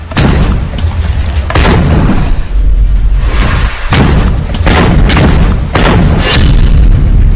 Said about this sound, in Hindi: हमास मोर्चा संभालता है और फिर छुप कर फायर करता है यासीन रॉकेट